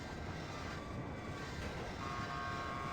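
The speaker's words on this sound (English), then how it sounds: "This train is ready to leave." A train running on a rail line, heard as a steady, unbroken broadband rumble that stays at an even level for the whole stretch, with no voices over it.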